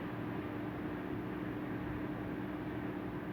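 In Euro Truck Simulator, a truck engine runs at a low, steady idle, a faint even drone holding without change for a few seconds.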